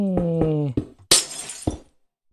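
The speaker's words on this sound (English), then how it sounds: "Oh god, I forgot that's how glass sounds." Glass blocks breaking in the video game Minecraft, a few sharp crisp shattering crashes following tonal game sounds, close and loud, with short gaps between breaks.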